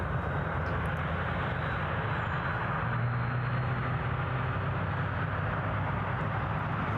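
A Boeing 737 airliner approaching Newcastle International Airport in calm, windless weather, a continuous broad engine roar that holds steady and loud throughout, with a faint low whine rising in the middle.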